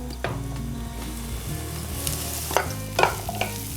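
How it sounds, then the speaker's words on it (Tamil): Vegetables sautéing in a pan for sweet potato and bitter gourd kara kulambu, a steady soft sizzle with occasional stirring scrapes and clinks, close and fairly quiet, no talking. "கொஞ்சம் அதை வதங்கட்டும்."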